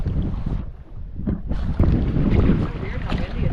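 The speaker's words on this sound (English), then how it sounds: "Weird how windy it is on this side." Strong wind buffets the microphone out on a mountain lake during a kayak trip, a loud, continuous low rumble that rises and falls in gusts with no talking.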